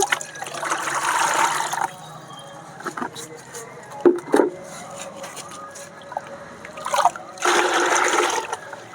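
Water from washed black gram (urad dal) is poured into a bucket while making an organic liquid fertilizer: a loud gushing pour at first, quieter trickles and splashes in between, then another strong rushing pour near the end.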